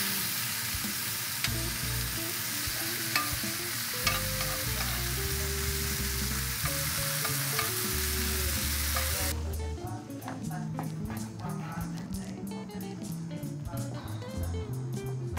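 Meat sears in a pan with butter, rosemary and garlic, a continuous bright sizzle under loud background music that cuts out partway, after which the frying carries on with sharper crackles.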